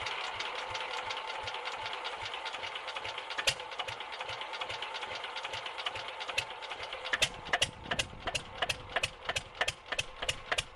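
A Škoda 1S110 one-cylinder stationary engine of 1,425 cc runs with a steady, regular knocking beat. Its thumps grow sharper and more pronounced in the latter part.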